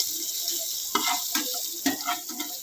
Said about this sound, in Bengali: এবার এইগুলোকে সব একসাথে করে ভেজে নেব,